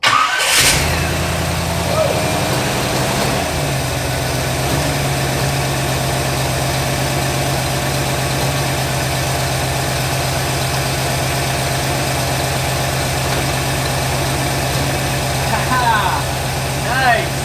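A Pontiac Firebird on a cold start with fresh oil cranks and catches, then settles into a loud, steady, slightly lumpy idle close by, with a voice speaking over the running engine.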